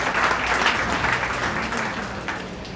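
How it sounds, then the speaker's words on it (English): Students clap for a head of department called to the dais at a new student welcome, a dense, even burst of applause from a large group that holds steady throughout. "Children, give him a big round of applause."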